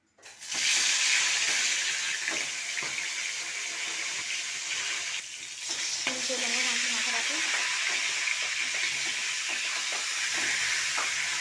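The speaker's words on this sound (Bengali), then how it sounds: "তেলটা গরম হয়ে গেছে মাছের মাথাটাকে এবার ভেজে নেবো" A fish head for a moong dal fish-head curry hits hot oil in a wok with a sudden loud sizzle that holds as a strong, steady hiss, with a flare of crackling midway.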